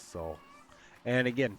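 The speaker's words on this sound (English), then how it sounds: "I'm sorry if you guys can hear my cat in the background." A pet cat meows indoors in the background, with a few short, fairly clear calls mixed in with someone talking close by.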